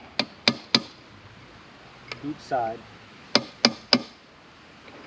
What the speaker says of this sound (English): Let's try to knock this bearing out a little bit.